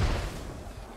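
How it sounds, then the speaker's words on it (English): A mortar shell explodes during a tactical team match in a video game, a single loud, deep boom that rumbles and decays across one second. "mortars are raining down here"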